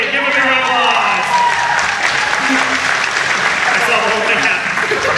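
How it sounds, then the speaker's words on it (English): Circus audience applauds at a live show in Branson, a dense sustained clapping crowd filling the whole stretch while someone talks over it nearby. "Come on, buddy, give him a round of applause."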